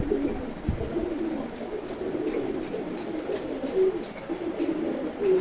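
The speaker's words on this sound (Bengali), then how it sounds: "এখানে আছে ঘিয়া চুল্লি আর অ্যাশ কালারের সুন্দর একটা কবুতর" Domestic pigeons kept in a loft coo in low, throaty, repeated phrases, several birds close by with soft rustling between calls.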